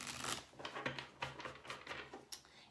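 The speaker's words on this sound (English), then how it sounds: "I want to give this deck one more shuffle and a cut" Tarot deck being shuffled and cut by hand, giving soft riffling and papery card slaps in quick irregular bursts, close and fairly quiet, with no talking.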